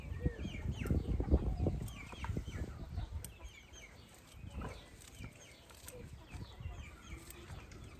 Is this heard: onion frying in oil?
no